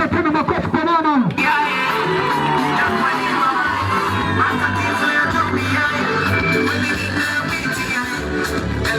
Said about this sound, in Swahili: Basi tunaomba kwanza tena makofi kwa mama.